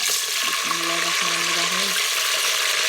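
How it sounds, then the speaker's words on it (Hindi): Onions hiss and sizzle in hot ghee in a pan while a meat and potato curry is being cooked, a dense steady frying crackle, with a brief tonal sound in the middle. "तो ये देखें घी जब हमारा गर्म हो चुका है तो हम डाल लेते हैं इसके अंदर प्याज"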